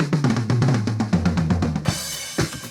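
Mixed drum toms from a song roll in a quick run of punchy hits stepping down in pitch, then pause, and a couple more hits land near the end.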